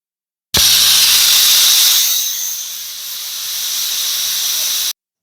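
A loud, steady hissing whistle of steam from a pressure cooker cooking mutton keema gravy, starting abruptly, dipping slightly midway, then cutting off sharply after a few seconds.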